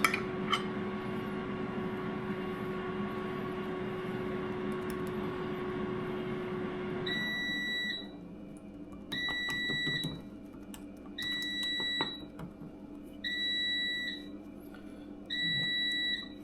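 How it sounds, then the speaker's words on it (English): A timer beeps in repeated bursts of high electronic tones, each burst of several quick beeps separated by short pauses, following a stretch of steady background hum. "Something beeping over there."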